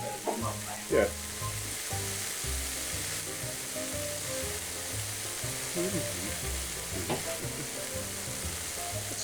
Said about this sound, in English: grab your bread halves and put them butter side down Ooh, on the shiny griddle